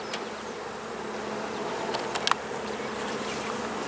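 Honey bees buzz steadily around an open beehive frame full of brood, a dense close hum of many insects with a few louder passes of individual bees near the listener.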